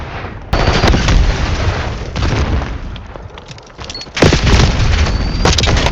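A Semtex grenade goes off in a first-person shooter match: loud, heavy booms near the start and again toward the end, with a dense rumble of gunfire and blast noise filling the gaps.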